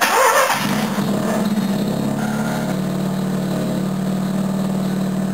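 A Mazda 12A rotary engine cranks and fires on a cold start, then settles into a steady, droning idle that runs on alone, fairly close and loud.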